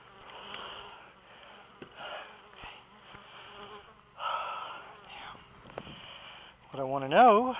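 Steady honey bee buzzing hums through the whole stretch during a hive move, swelling louder near the end, with a voice speaking over parts of it.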